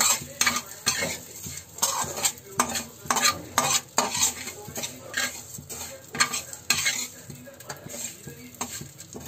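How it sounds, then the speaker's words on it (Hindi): Vermicelli dry-roasting in a pan for seviyan kheer, stirred with a utensil; repeated rhythmic scraping and clinking strokes over a light sizzle, close and fairly loud with no talking. "इसको ज़्यादा देर नहीं बस थोड़ा सा हमको इसको भूनना है क्योंकि ये ऑलरेडी भुना हुआ है"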